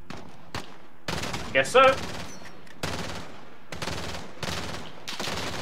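Gunfire in the video game Call of Duty Modern Warfare: several sharp bursts spaced by brief pauses, loud and close, with a voice speaking briefly between shots.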